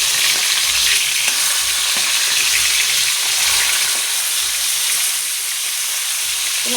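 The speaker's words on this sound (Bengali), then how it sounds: "সুন্দর করে লাল লাল করে ভাজা করে নেব।" Rohu fish frying in a pan, a loud, steady close-up sizzle and crackle of hot oil that carries on without a break.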